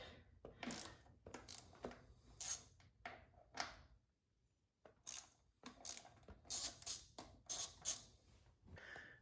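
Ratchet working the pinch bolts on a Suzuki DRZ400SM motorcycle, giving bursts of quick metallic clicking in uneven runs with a short pause midway, close up and fairly quiet.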